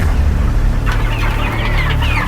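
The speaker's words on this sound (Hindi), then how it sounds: "ये मुर्गियां देख रहे हैं आप?" Chickens cluck close by over a loud, steady background, with a run of short overlapping clucks and squawks in the second half.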